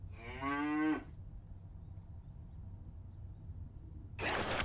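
A cow in the video game Crimson Spires lets out a single drawn-out moo, followed by a quiet stretch of low ambient hum and a sudden bright burst of noise at the very end.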